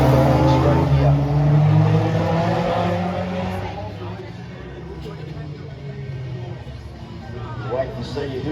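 Classic MG race cars at the Albany Around The Houses street race, engines roaring as they descend onto the main straight, loud at first then fading to a distant drone, with a commentator talking over them.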